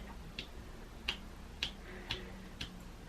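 A finger taps again and again on a still-sticky diamond painting canvas, giving a series of about six faint, crisp ticks with a slight tacky snap, spaced roughly half a second apart over quiet background.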